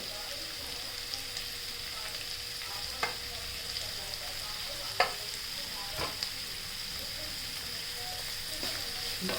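Onion and green chili sautéing in a pan, a quiet steady sizzle with occasional sharp clicks of a spoon against the pan.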